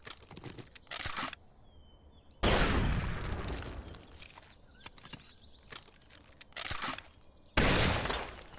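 Blunderbuss blasts in 7 Days to Die as the gun is used to harvest a stone resource rock, three loud, broad booms spaced a few seconds apart, each trailing into a rough decay, with faint clicks between.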